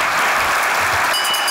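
Studio audience applause on a Turkish comedy sketch show, a short burst of dense, even clapping from a full crowd, loud and sustained throughout.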